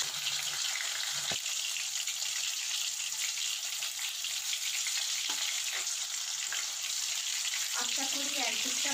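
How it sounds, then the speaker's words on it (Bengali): Tilapia fish pieces fry in hot mustard oil in a wok, giving a constant bright sizzle and crackle throughout, with a few soft clinks and stirring sounds near the end. "এবারে মাছগুলো ছেড়ে দেব গরম তেলে।"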